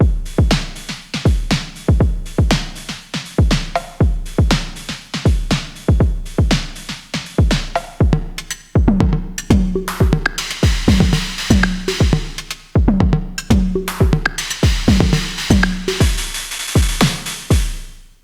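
A steady synthetic drum pattern thumps along with punchy kicks and snappy hits, later joined by bright hissing noise bursts, loud and up close.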